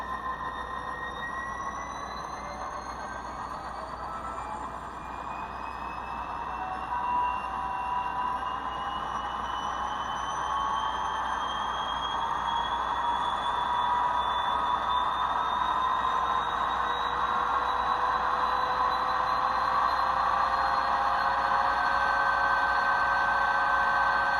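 Auscision CLF class model locomotive ESU decoder engine sound notching up to notch 8: a steady diesel drone whose pitch and loudness climb gradually over time, with rising tonal whines and no speech.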